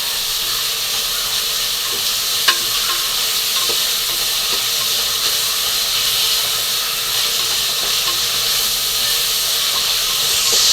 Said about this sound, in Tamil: இப்போ நல்லா நம்ம வதக்கிடுவோம்